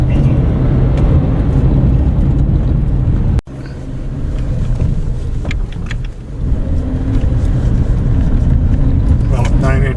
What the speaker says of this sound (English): with 9 inches of ground clearance, we're going over these rocks pretty good